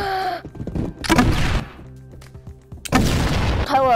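An egg launcher fires twice in the Roblox egg hunt game, each shot a loud, booming thump roughly two seconds apart, with rumbling low game sounds between and no voices.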